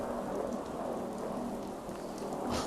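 Steady rain falls with a low thunder rumble in a Fallout game storm, a continuous close wash of rainfall heard alone with no voices.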